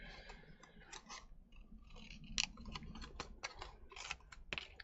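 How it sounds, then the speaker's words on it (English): Sticky scissors snip through paper at a craft table, giving a series of close, uneven crunching cuts with a chewing-like drag. "Sticky scissors trying to cut is not a good thing."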